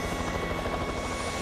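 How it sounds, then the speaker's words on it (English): A cartoon helicopter flying, its loud, steady rotor chop and engine drone filling the whole brief moment close up. "Yes, the helicopter's here, Helen."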